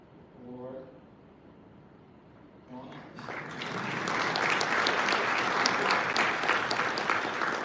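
Applause from the crowd at a university racing team's car unveil swells after a short spoken line and holds as sustained, dense clapping.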